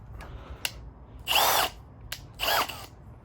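A power drill spins up in two short bursts while fitting M12 head studs to an M54B30 engine block, with faint clicks and taps between the whirs; close and fairly quiet.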